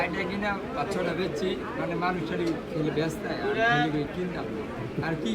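Cooing pigeons fill a Bangladeshi pigeon market, a steady bird murmur mixed with crowd chatter and nearby voices talking throughout.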